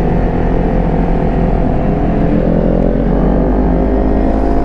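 A Kawasaki Ninja 400 motorcycle engine runs loud and steady at close range, with a continuous, even drone that holds without pause across the whole stretch.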